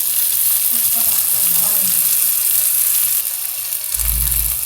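Chicken with a splash of cooking cream sizzles and fries in a pan over a portable gas stove, a steady close hiss with stirring, growing louder near the end as the cream hits the hot pan.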